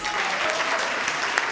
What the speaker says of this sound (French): Il faut applaudir Cabis.